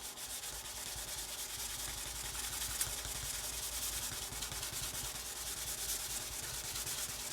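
Cloth rubbing and polishing AK Interactive True Metal paint on a model surface, a faint, steady scratchy friction that continues without pause, close and quiet, with no talking.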